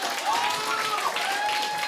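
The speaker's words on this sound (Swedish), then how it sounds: "Kan ni applådera nu?" A stand-up comedy audience at a Comedy Central special applauds: a dense, even wash of clapping from a crowd, holding steady at moderate loudness for the whole stretch.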